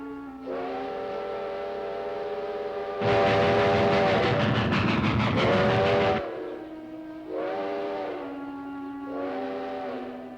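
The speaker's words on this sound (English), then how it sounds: "We gotta flag down a train." A train whistle from a 1950s western TV series sounds a series of sustained, tonal blasts, one long and loud, followed by shorter repeated toots over the rumble of a passing train.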